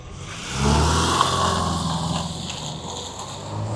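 Subaru Forester all-wheel drive taking tight turns, a steady mid-pitched engine drone with road and cabin noise that swells slightly as it accelerates, continuous and fairly loud throughout.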